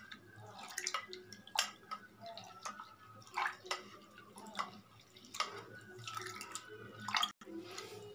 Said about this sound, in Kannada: ಹಾಗೆ ಇದಕ್ಕೆ ನೀರು ಹಾಕ್ಕೊಂಡು 2-3 ಸರಿ ಚೆನ್ನಾಗಿ ತೊಳೆದಿಟ್ಕೊಳ್ಳೋಣ.